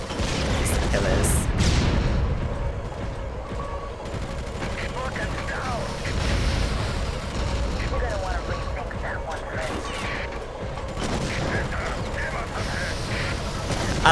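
Gunfire and explosions ring out in the Bloodrayne video game as repeated rapid bursts and booms in a busy, cluttered mix, with players talking over the action throughout.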